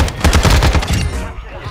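Rapid automatic gunfire from Call of Duty: Modern Warfare 2 rattles out in a loud, fast burst for about a second, then cuts off and leaves a fading tail.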